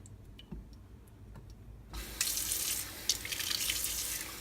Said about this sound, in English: dump the waste products down the sink and continue washing with soapy water